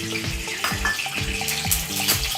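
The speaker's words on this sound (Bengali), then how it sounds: "এই চিকেন রান্নার জন্য আমি যে পরিমাণ মাস্টার্ড অয়েল নিয়েছি সেটি এবার আমি কড়াইয়ের মধ্যে" Mustard oil going into a hot wok for a methi-mustard chicken dish, a steady sizzle and crackle with a few rhythmic metallic clinks of the pan, close and alone.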